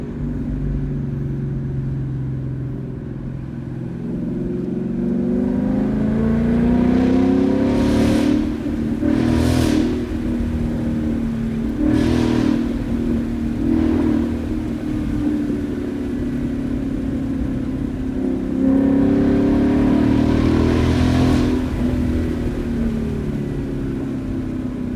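A 2019 Ford Mustang GT with paddle shifters, its engine revving up and dropping through several gear changes, a steady low rumble broken by repeated sharp rises in pitch, heard from inside the car with no talk.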